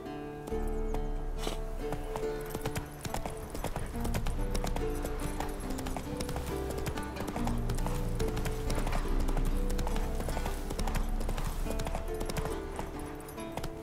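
Roach, the horse in The Witcher 3, gallops with steady, loud clip-clop hoofbeats that run the whole time, layered over a full game soundtrack.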